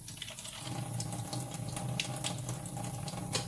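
Water being poured into a cooking pan while making broccoli with cheese, a faint continuous splashing trickle that holds steady for a few seconds with no talk.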